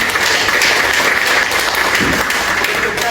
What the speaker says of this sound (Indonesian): kita tepuk tangan dulu Bapak Mama.